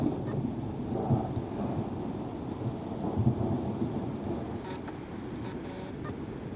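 Thunder from a July thunderstorm rolls as a low, continuous rumble outdoors, steady and moderately loud with a faint hiss of rain and wind and no speech.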